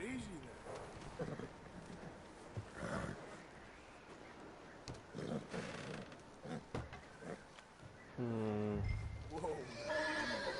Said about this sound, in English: Oh, it wants me to focus on the horse.